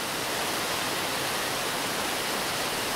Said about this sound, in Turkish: Nehrin suları ise düz ve hafif eğimli bir akıştan sonra bir anda 90 derecelik dik bir açıyla boşluğa dökülüyor.